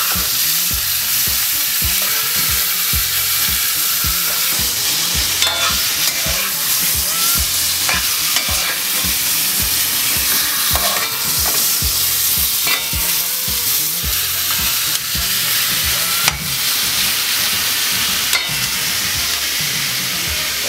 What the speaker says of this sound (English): Let this sear for a little bit and let it fry, let it burn.